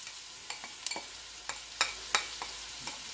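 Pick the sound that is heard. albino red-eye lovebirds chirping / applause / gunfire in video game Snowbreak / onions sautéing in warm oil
onions sautéing in warm oil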